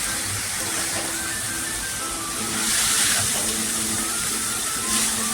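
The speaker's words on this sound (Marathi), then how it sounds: "आता आपण भाजी टाकूया थोडीशी टाकायची मग खाली वर करायची म्हणजे कांदा खाली लागत नाही" Cowpea leaves hit onions frying in a pan and set off a steady, close hiss that swells slightly midway, with a faint low hum underneath.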